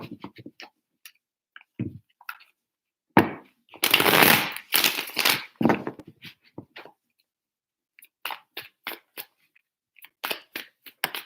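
Tarot cards being shuffled by hand come through as quick, crisp riffling bursts and soft flicks, with a louder flurry near the middle and scattered short taps after, close by in an otherwise quiet room.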